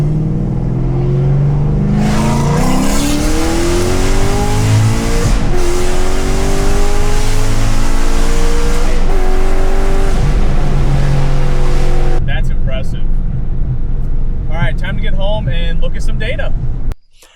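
A Camaro with a Borla Switchfire exhaust accelerates hard from 40 to 100 mph. The loud engine and exhaust roar climbs in pitch, dips at gear changes, then eases off near the end before cutting out.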